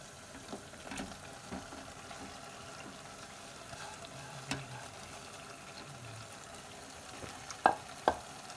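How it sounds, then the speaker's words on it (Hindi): Jackfruit with tomato and onion frying in a pan while being stirred, soft scraping and faint sizzle with a few light knocks of the spoon, two sharper clinks near the end. "अब इसे बीच बीच में चलाते हुए हम अच्छे से भून लेंगे।"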